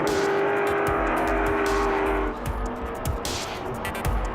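Ford Mustang race cars roar loudly around a track in a close heat battle, engines howling continuously at high revs, with a drop in tone partway through as one car passes and the other follows.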